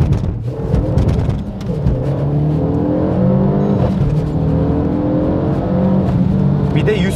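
A Renault Megane RS 265 accelerates hard at full torque up a slope in the rain, its engine note rising steadily and loud inside the cabin for several seconds.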